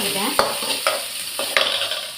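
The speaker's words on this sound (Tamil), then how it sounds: "வெங்காயம், கருவேப்பிலை, பச்சை மிளகாய் எல்லாம் போட்டு விரட்டிக்கிட்டேன்." Onions, curry leaves and green chillies sizzle steadily as they fry in a pan for a home lunch, broken by several sharp scrapes of a spoon stirring close by.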